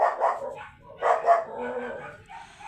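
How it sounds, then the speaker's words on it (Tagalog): A dog barks in short bursts, a couple of sharp barks followed by a pause and more yapping, fairly close and loud. "Ingay ng aso namin."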